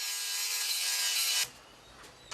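An angle grinder sands red paint off a weathered wooden rafter in a 70-year-old earthen house, a loud, harsh abrasive roar for about a second and a half before it stops abruptly and only faint scraping remains.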